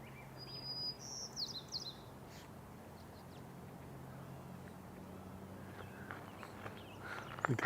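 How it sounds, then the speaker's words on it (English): Song sparrows sing at a marsh in the early morning, short bright phrases sounding faint and distant near the start over a low steady ambient hum, with another brief call toward the end. "You can hear the song sparrows wide awake now."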